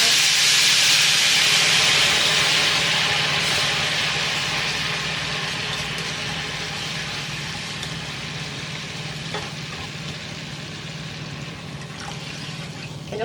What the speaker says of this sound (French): Maintenant, je vais commencer à ajouter l'eau.